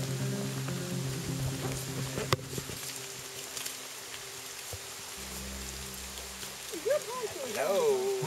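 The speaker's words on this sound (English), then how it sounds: "Well, it's raining." Steady rain patters in a pine forest on the slopes of Kilimanjaro, a soft continuous hiss with low background rumble and faint voices.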